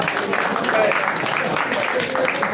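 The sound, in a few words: audience applause at a summit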